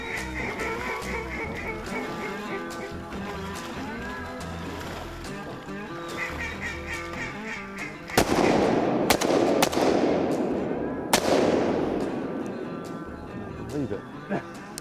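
Shotgun blasts during a flooded-timber duck hunt, several sharp reports arriving in a quick cluster over steady background sound, with a voice speaking before the shots.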